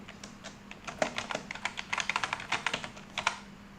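Rapid irregular keystrokes on a computer keyboard while writing Python code, a quiet close-up patter of light clicks in quick bursts with short pauses.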